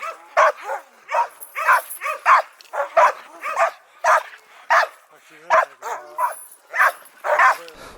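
Laika hunting dogs at a kennel bark and yip in a rapid, close, repeated string with whimpering mixed in.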